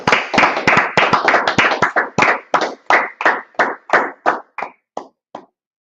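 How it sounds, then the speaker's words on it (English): A group claps hands together in loose unison at a scripture and law class in Harlem, New York, sharp rhythmic claps that start dense and quick, then thin out and slow before stopping. "Let's clap it up."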